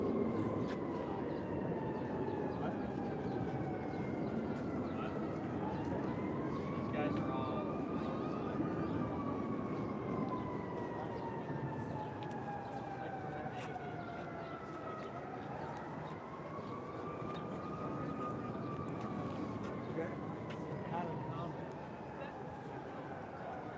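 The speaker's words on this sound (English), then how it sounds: "you can hear the Doppler effect of the planes when they come in and go out" Blue Angels jet planes flying past at an air show, a sustained jet roar whose pitch sweeps up and then falls in repeated Doppler passes, heard amid steady crowd and wind noise with voices around.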